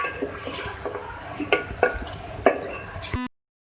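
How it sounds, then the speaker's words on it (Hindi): Chicken pieces go into a hot pan for frying in a white badami korma, producing a few soft clatters and stirring knocks over a low sizzle, close and moderately quiet. "अब मैं इसमें ऐड करूँगी चिकन। इसको हम फ्राई करेंगे चिकन डालने के बाद।"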